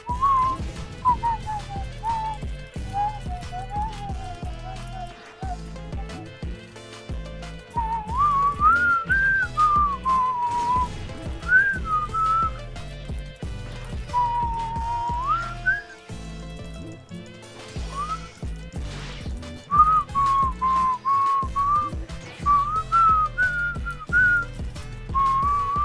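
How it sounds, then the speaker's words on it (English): A person whistles a wandering melody, loud and close, on and off over steady game music and effects during a Roblox Grand Piece Online tournament session. "can you stop whistling, man?"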